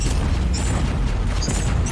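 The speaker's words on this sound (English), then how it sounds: "And then back to the plasma cannon, and let's put some heat into this guy." A plasma cannon fires repeatedly in the Warhammer 40,000: Inquisitor - Martyr video game, giving dense booming blasts with sharp bright pops over a constant loud rumble of game sound.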